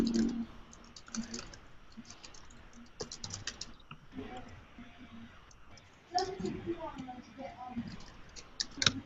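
Computer keyboard typing in bursts of quick, light clicks, close and fairly quiet, with pauses between runs and faint voices in the background.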